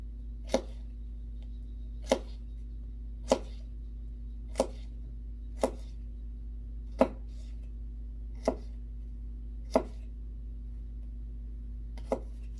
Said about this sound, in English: I am finishing cutting up our cucumber right now